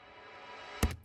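A fading electronic sample in a disco-style sub-bass dance track, a soft sustained wash of tone running steadily before a brief louder burst near the end.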